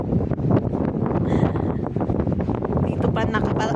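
Strong typhoon wind buffets the microphone in a steady, roaring rush, with no talking.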